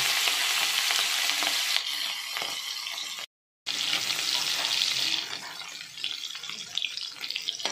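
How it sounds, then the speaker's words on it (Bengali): Prawns frying in hot oil in a kadai, a loud, dense sizzle that fills the whole clip, broken by one short gap and easing slightly near the end; no talking. "এবার আমি কয়েকটা চিংড়ি মাছ ভাজা করে নিচ্ছি।"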